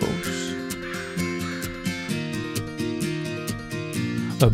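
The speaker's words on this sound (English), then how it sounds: "Some crows." Crows caw repeatedly at a distance near a creek in Rångedala, harsh calls recurring in a loose rhythm over a steady background with music-like tones.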